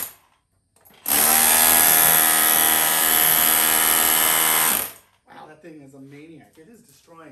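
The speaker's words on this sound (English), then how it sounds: "So it's a chipper hammer too." Milwaukee M18 FUEL SDS Plus rotary hammer chipping in hammer-only mode, a loud, steady, close rattling roar lasting about four seconds that cuts off abruptly, after which someone speaks.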